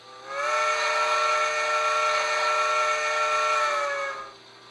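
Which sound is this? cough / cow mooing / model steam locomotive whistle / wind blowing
model steam locomotive whistle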